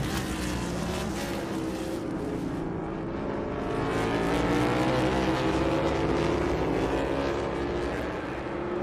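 NASCAR stock cars racing on the Indianapolis road course, a loud continuous engine roar with shifting pitch as cars pass close by, no voices over it.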